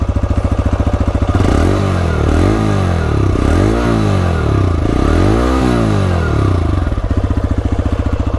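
A TVS Raider 125 motorcycle (BS7, E20) running close by, its single-cylinder exhaust thumping at idle, then blipped through several quick revs that rise and fall before settling back to a steady idle, loud and alone.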